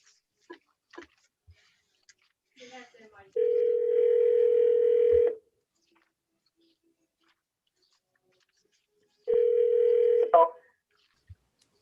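A steady telephone dial tone from a speakerphone as a call is placed, sounding in two sustained stretches of about two seconds and one second, with faint clicks and handling noises in the quiet gaps.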